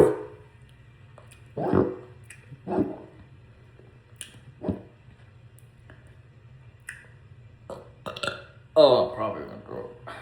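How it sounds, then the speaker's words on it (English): A person burps repeatedly in a dark room, with several short, loud belches spaced a second or two apart and the last ones longest. "Let me try 7 times if I do the burp with it."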